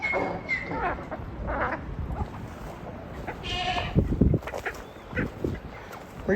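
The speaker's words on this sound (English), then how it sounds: "I hear Jay braying" A donkey named Jay brays somewhere on a farm with a flooded creek nearby, its harsh wheezing calls rising through steady wind and water noise.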